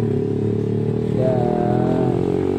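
A Yamaha R15 V3 155cc motorcycle fitted with an R9 racing exhaust rumbles close by, its loud, throaty exhaust note holding steady and then rising briefly in pitch as the rider revs and pulls away.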